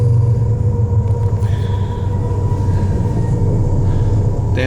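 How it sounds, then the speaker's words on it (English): A freight train rumbles past close by, a loud, steady low roar with droning engine tones that continues without a break throughout. "Oh, freight train."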